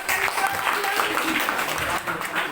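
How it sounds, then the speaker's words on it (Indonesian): Students in a classroom clap together in a steady, moderately loud burst lasting a couple of seconds, with some voices beneath. "Oke, kasih tepuk tangan dulu."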